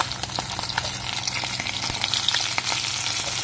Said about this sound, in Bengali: বড় বড় কই মাছগুলো কিন্তু ভাজা হয়ে গেছে